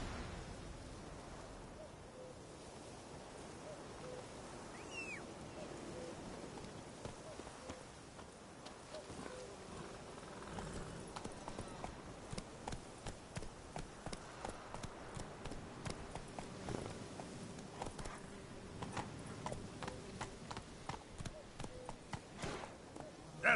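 Roach, a horse in The Witcher 3 video game, trots through a forest with steady, rhythmic hoof clip-clops that grow clearer and more regular toward the end, moderately near, under a soft ambient game score with a voice.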